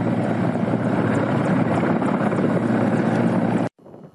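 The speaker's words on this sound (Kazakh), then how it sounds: "Бүгін Ми-171-ші көлік жауынгерлік тікұшақтарының кезекті партиясын күтіп алды." Mi-171 military transport helicopters of the Kazakh air force give a loud, steady rotor and engine roar that cuts off abruptly near the end.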